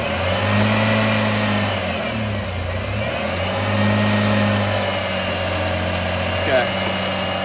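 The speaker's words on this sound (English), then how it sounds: "And rev it up a bit." A car engine idling and revved up a bit during a battery voltage test, with a steady close drone that rises and falls in pitch a couple of times and a person talking over it.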